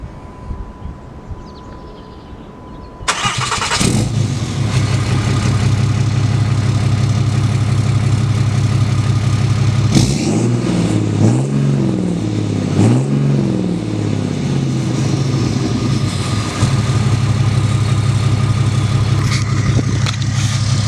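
A 2008 Ram 2500 pickup with the 6.7 Cummins diesel and a muffler cranks over and catches after a few quiet seconds, then settles into a loud, throaty idle broken by several rising and falling revs midway, recorded close with no voices.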